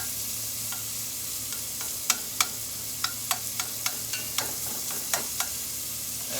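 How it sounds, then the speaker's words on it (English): Bacon fries in a hot pan for a braised beef short rib recipe, a steady close sizzle broken by scattered sharp clicks and scrapes from stirring. "That's what I like, is a nice sizzle of that bacon."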